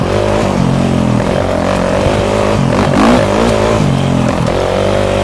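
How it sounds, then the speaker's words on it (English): A KTM 450 SX-F dirt bike engine rumbles and shifts pitch as it slows under engine braking, the revs dropping and wavering under load, close and steady throughout. "Get a little bit of engine braking going."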